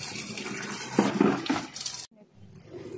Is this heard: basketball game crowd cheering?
no